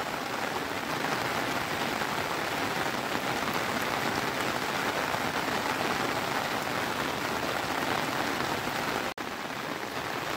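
Heavy monsoon rain pours steadily over village fields and a homestead in Konkan during May, a dense, loud, continuous hiss of drops with no voices, briefly cutting out near the end.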